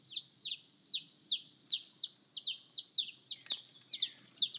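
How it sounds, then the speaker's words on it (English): Baby chicks roosting in a tree with their mother hen give a steady series of about a dozen high, downward-sweeping peeps, regular and fairly close, over a faint low outdoor rumble. "You can hear one chirping down there."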